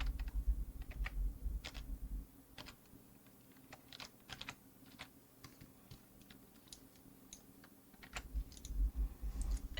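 Close, fairly soft typing on a computer keyboard while entering an equation into Desmos, with irregular key clicks in short bursts over a low hum.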